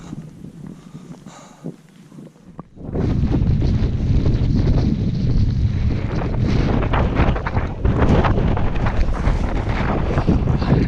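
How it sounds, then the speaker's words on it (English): After a few quiet seconds, strong wind on a mountain pass suddenly roars and buffets the microphone, a loud, continuous rumbling gust that keeps blowing without letup. "It's a little windy."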